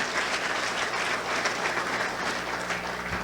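Sustained applause from an audience at Prime Minister Harris's 2016 address, recognizing Ambassador Mitchell, a full, even roar of many hands clapping continuously for the whole stretch.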